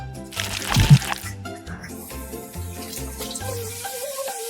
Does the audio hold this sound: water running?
yes